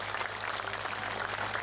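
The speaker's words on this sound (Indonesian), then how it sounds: "Tepuk tangan untuk Ansor Ringin Rejo" Applause at an outdoor religious gathering for Ansor Ringin Rejo, a steady, fairly faint patter of clapping that holds for the whole short stretch.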